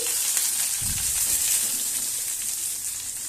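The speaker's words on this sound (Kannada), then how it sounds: "ಒಣಮೆಣ್ಸಿಕಾಯಿ ಹಾಕಿದ್ರೆ ಸ್ವಲ್ಪ ಕೊತ್ತಂಬರಿ ಸೊಪ್ಪು ಹಾಕಿ ಇದು ಚೆನ್ನಾಗಿ ಫ್ರೈ ಮಾಡ್ಕೊತಾ ಇದ್ದೀನಿ" Onions, curry leaves, dry chillies and coriander frying in a pan, a steady bright sizzle with a brief low stir or clatter early on, close and continuous.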